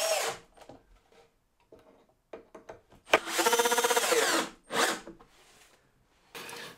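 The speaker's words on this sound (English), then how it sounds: "Now I'm just going to get some glue and get these screws done up." A power drill drives screws into wood for a handmade Christmas gift, with short whirring bursts and one longer, louder run, close by and with no speech.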